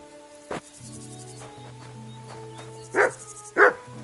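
A dog in the Kingdom Come: Deliverance 2 video game lets out a few sharp barks, one early and two louder ones near the end, over a sustained tonal background with no talking.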